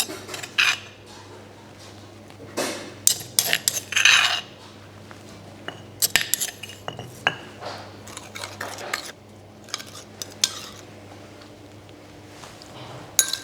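Metal utensils clink and scrape against a bowl while sauce for summer rolls is mixed, in irregular bursts of sharp taps and stirring scrapes over a steady low hum, with no one talking.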